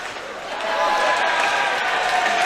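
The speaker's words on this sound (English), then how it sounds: "That draws a round of applause from the crowd" A crowd at a hockey game breaks into a round of applause, swelling after a moment and then holding as steady, broad clapping and light cheering from the stands.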